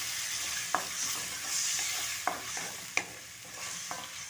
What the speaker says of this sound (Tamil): நல்லா நம்ம கொதிக்க விடலாம்.